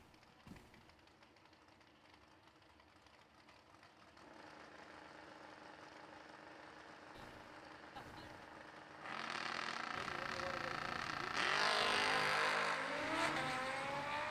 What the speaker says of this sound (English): Bargo in the first of his 2 entries, the wheel standing pickup truck out of Barberville, Kentucky